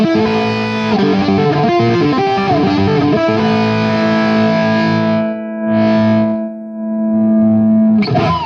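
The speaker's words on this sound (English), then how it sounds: "using the reverbs again, obligatory kind of jazz sound, which is quite nice" Electric guitar through a reverb pedal playing a mellow jazz-style passage, a flowing run of notes then sustained chords ringing out with spacious decay, loud and alone.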